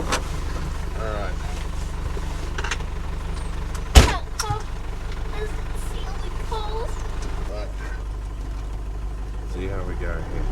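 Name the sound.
Perentie 6x6 ambulance engine idling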